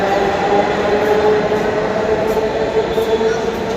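A Dhaka metro rail train passes on Bangladesh's first metro line as a loud, continuous rumble and roar that holds steady throughout.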